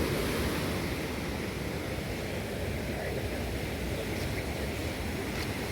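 Steady rush of ocean surf breaking on the shore, broad and continuous with a soft wind-like hiss, no voices.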